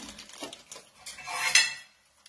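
A veg Manchurian mixture stirred in a pan, with a short burst of close scraping and clinking of a spoon against metal that rises and then stops, no talking.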